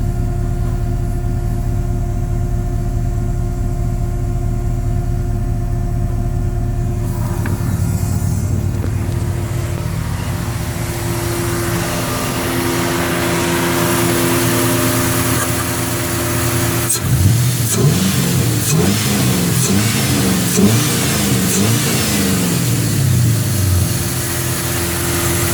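An LS-swapped 1967 Chevrolet Bel Air with a new water pump idles loud and close with a steady rumble, then its engine rises and falls in repeated revs toward the end, with no voices over it.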